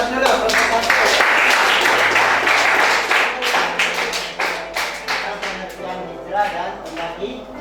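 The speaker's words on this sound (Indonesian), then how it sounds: "Oke, kasih aplaus dulu." A classroom of students claps in a dense burst of applause that gradually thins into scattered individual claps, with voices heard alongside.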